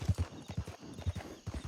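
Horse hooves clip-clopping in a steady rhythmic gait in the game Red Dead Redemption, close and fairly faint, with no clear whinny standing out.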